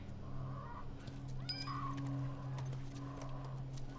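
A horse in The Last of Us Remastered gives soft hoof clops and a sharp snort amid ambient outdoor bird calls and a low steady drone, fairly quiet and close.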